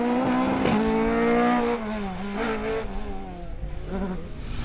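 A circuit rally car is pushed hard around Anglesey, its engine revving loud and close through rising and falling gear changes, with tire noise under the strained howl.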